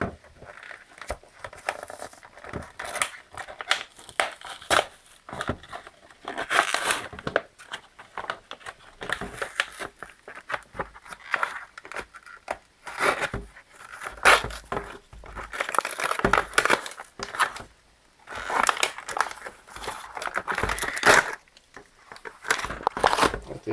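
Plastic packaging of a Shopkins toy set being torn and crinkled open, with steady close rustling and ripping that comes in bursts for about twenty seconds.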